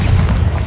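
A Bombarda blasting spell goes off in Hogwarts Legacy, a short, loud, deep boom with a rumbling low end that fills the whole moment.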